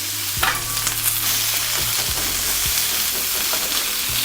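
Onions and peppers hit a hot, oiled pan on medium heat for cheesesteak, giving a loud, continuous sizzle with several sharp knocks of a utensil stirring and breaking them up, and no talking.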